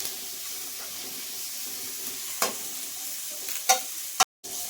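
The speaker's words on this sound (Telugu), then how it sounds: "క్యాబేజీ కూడా 1 నిమిషం పాటు వేపుకుందాం" Cabbage and onions stir-fry in a pan for vegetable fried rice, giving a steady low sizzle with a few scraping spoon strokes, then a sharp clatter and a brief cut to silence near the end.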